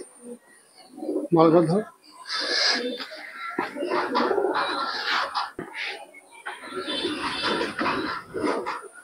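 Teddy pigeons in a loft coo in low repeated throaty bursts, close by, while a person talks over much of the sound.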